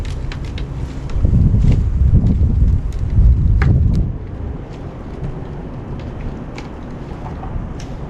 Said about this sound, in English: We got a little bit of wind, so that's all right.